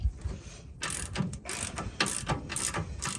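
A ratchet wrench loosens the nut on a Fox 2.0 rear shock on a 2024 Ford F250, passenger side, with a loud close rapid clicking of the pawl in bursts.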